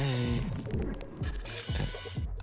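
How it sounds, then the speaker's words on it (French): Small robot vacuum cleaner moving about a prison cell, giving a busy run of close mechanical clicks, ratcheting whirs and short motor chirps, alone without voices. "Et c'est un aspirateur robot."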